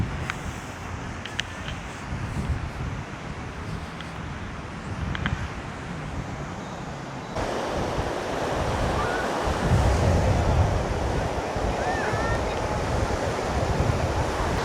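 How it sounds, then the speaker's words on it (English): Baltic Sea waves on the Polish coast roll in as a steady broadband surf wash mixed with wind noise, growing louder and closer in the second half, with no clear speech. "I'm going to go and check out the sea"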